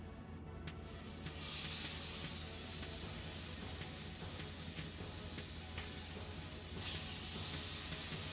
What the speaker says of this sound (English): we were making pan-seared salmon